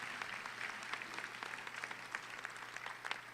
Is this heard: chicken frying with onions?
no